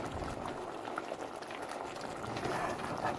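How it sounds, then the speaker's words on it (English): Pot of stew peas with coconut milk and dumplings bubbling and being stirred, a soft continuous simmering gurgle with faint liquid churning, quiet and close. "So I'm just gonna give it a stir"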